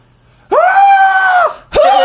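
A person's voice imitates a goat scream: a loud, sustained nasal bleating cry lasting about a second, followed after a short pause by the start of a second scream, close and alone.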